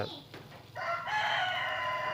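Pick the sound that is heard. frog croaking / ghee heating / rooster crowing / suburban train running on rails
rooster crowing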